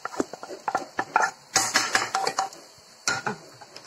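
A ground gooseberry mixture is spooned from a mixer jar into a cooking vessel, giving a run of close, uneven clinks and scrapes of metal on metal with short pauses between them.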